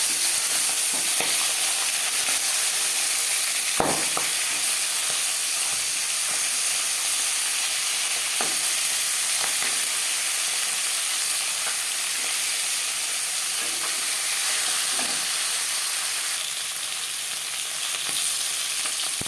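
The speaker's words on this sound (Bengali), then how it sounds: "মাছের মাথা একটা সাইড ভাজা হয়ে গেলে অপর সাইডটা উল্টে দেব" Oil sizzles and hisses loudly and continuously as a fish head fries in a pan, with occasional sharp crackles and pops.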